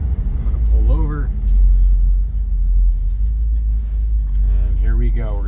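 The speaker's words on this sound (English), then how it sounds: "So I'll take you guys up through the gears here." A 1959 Cadillac under way, its engine rumbling low and steady from inside the cabin as it pulls through the gears, with someone talking over it at times.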